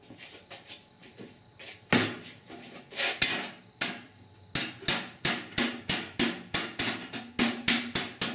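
A hammer strikes a sheet metal flange held on a dolly over a workbench during 1969 C10 inner roof rust repair: irregular taps at first, then a steady run of sharp, ringing blows, close and loud.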